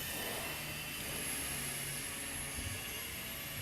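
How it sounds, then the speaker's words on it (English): Small Walkera V100D03 RC helicopter with nicked, vibrating blades flies with a steady, faint high whine and a fluttering hiss throughout, continuous and unbroken. "with a helicopter this small and a head speed like this, the vibrations will cause the tail not to hold too well"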